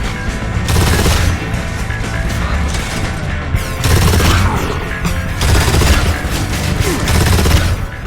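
Rapid bursts of Gorgon pistol fire from a video game, loud and continuous for several seconds, with heavy impacts and crashes mixed into the dense gunfire and no talking.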